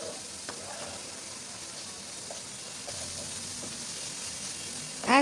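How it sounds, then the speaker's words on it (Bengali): Koi fish frying in a cooked-down spiced masala, a soft, continuous sizzle with faint stirring clicks and a sharper scrape at the very end. "এখন এই মশলার মধ্যে আমি কই মাছটা দিয়ে সামান্য কিছুক্ষণ কষিয়ে নিব।"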